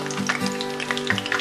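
Apple fritters frying in hot oil give a loud, steady sizzle with crackling pops close up, continuous over the short stretch with no talking.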